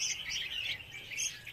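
Young red-whiskered bulbuls chirp on a bird farm, a steady run of high, thin tweets close by with a few brighter calls rising over the chatter.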